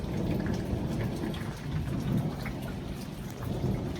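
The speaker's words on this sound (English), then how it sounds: "That was a big ass lightning strike right over there." A strong storm with pea-size hail: steady rain hammers nearby surfaces while low thunder from a close lightning strike rumbles beneath it, loud and continuous with no voices.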